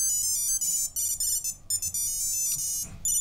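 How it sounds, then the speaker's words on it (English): A BlindShell Beep beeper ringing, repeating a bright electronic melody in short bursts with brief gaps, close and clear. "And it just keeps going, playing a little sound,"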